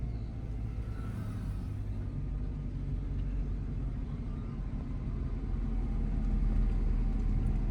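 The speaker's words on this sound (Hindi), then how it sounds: "करो एक्सीलेट हल्का सा, जाओ। हाँ, और जाओ।" A car engine rumbles steadily during a driving lesson, with a low, continuous drone that holds and swells slightly as the driver is told to accelerate gently in first gear, no voices over it.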